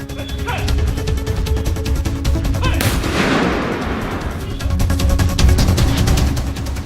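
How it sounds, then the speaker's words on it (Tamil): A ceremonial gun salute fired at a state funeral before cremation at an electric crematorium: a sharp, loud volley of shots that rolls into a decaying rumble, over continuous outdoor background noise. "துப்பாக்கி குண்டுகள் முழங்க அரசு மரியாதை செலுத்தப்பட்ட பின் உடல் தகனம்"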